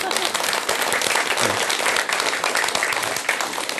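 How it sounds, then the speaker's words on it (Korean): An audience at a mentoring talk gives a burst of clapping, fairly dense and steady for a few seconds, with some voices mixed in. "예, 박수 한번."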